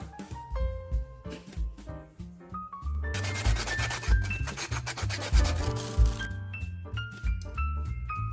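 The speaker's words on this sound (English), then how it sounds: "just sanding off all these rough bits so they don't look all ugly and janky" Rough bits of wood are sanded smooth in steady rubbing strokes, close and continuous, under bright plucked background music.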